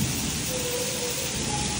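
Heavy rain pours down steadily in a dense, even roar during a thunderstorm, with low rumbling thunder mixed into the constant wash of water, no voices.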